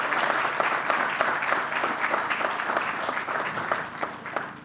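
A crowd at an outdoor announcement at Jones Beach applauds, a dense, lively clatter of clapping with distinct claps popping out, holding fairly loud before easing slightly at the end.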